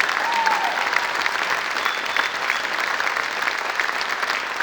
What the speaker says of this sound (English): Let's give a final round of applause for our 2023 Distinguished Alumni